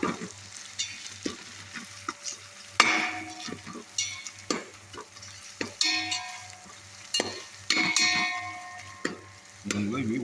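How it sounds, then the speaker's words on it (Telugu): Curry leaves, green chilies and onion fry in oil for tomato bath, a steady close sizzle punctuated by sharp stirring scrapes and clanks of a spoon against the pan, with no voices. "నూనెలో కరివేపాకు, పచ్చిమిర్చి, ఉల్లిగడ్డ ఇవన్నీ ఉడకాలి."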